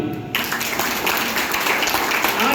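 Audience applause at a health awareness program in an office hall, a dense steady wash of clapping that starts abruptly and holds at an even level for a couple of seconds.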